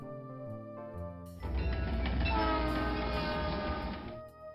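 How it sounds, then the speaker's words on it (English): Chiptune-style train sound from the DOS version of SimCity (1989): a loud, sustained, buzzy passage with a horn-like tone, lasting about three seconds before cutting off, heard alone. "There goes our train again."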